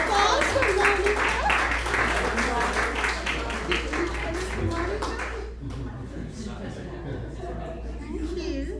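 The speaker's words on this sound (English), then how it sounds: "applause for Monica." Audience applause at a book event with an author in conversation, clapping under talk and a low steady hum for about five seconds, then dropping off as voices continue.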